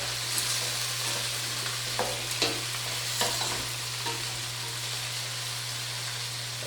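Potatoes sauté in a pot for celeriac soup, a steady close sizzle with a few scraping stirs early on over a constant low hum, and no talk.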